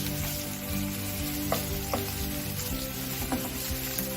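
Chopped scallion hits a hot pan for Jamaican ackee and saltfish, and a steady crackling sizzle fills the foreground with scattered pops, without any talking.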